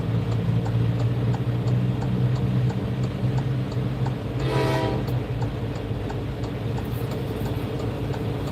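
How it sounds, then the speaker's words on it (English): A train rumbles past a truck on the road, a steady heavy roar with its horn blaring briefly midway through, loud and close, with no talk. "Oh, we got a train coming."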